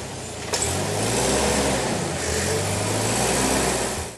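A Jeep engine revs on a wooded off-road trail, a close, steady mid-pitched growl that swells as it accelerates and holds for several seconds.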